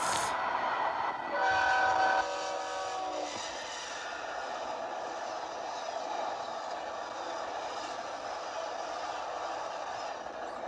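An E60 electric locomotive rumbles past with a loud, sustained horn blast near the start, then a steady rolling roar of railcars that carries on to the end.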